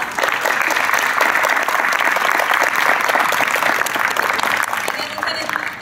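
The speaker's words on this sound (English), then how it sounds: "If you can give them a round of applause." Sustained audience applause for panelists at a Sacramento community forum on the TRUST Act, a steady dense clapping that fills the room at full loudness for the whole stretch.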